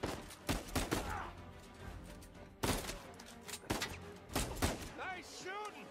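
Gunfire in the video game Uncharted 4, several loud sharp bursts of shots in irregular clusters, heard alongside game sound effects and voices.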